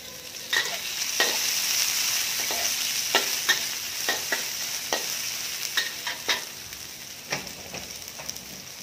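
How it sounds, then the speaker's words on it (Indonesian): Shallots and garlic frying in oil in a wok, a continuous bright sizzle broken by quick scraping strokes of a spatula, close up and with no talking. "Nah ini kita masukkan bawang merah, bawang putih"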